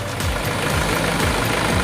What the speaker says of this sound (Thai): สำหรับเครื่องดีเซลก็จะได้ยินเสียงแบบนี้นะครับ